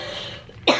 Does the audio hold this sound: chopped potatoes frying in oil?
no